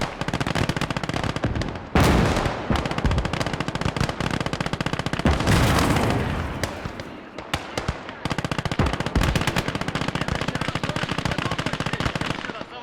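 Rapid, sustained MG34 machine-gun bursts in the video game Gates of Hell rattle almost nonstop, with a couple of heavier blasts and booms mixed into a loud battle din.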